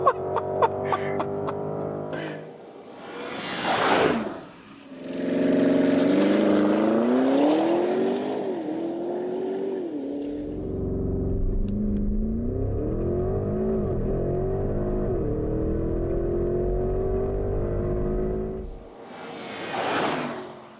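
A Porsche Cayenne Turbo GT engine revs and accelerates hard and close by, with rising and falling engine notes that climb through the gears, a long sustained pull in the middle, and short bursts of wind or rushing noise between runs.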